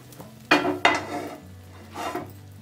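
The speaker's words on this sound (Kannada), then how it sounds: "ಒಂದ್ ಪ್ಲೇಟ್ ಈ ತರ ಇಟ್ಕೊಂಡು ಇದನ್ನ ಫ್ಲಿಪ್ ಮಾಡ್ಕೋಬೇಕು ಈ ತರ" An omelette flipped over with a plate in a home kitchen, heard as two sharp clattering knocks of plate against pan close together, then a softer scraping clatter a moment later.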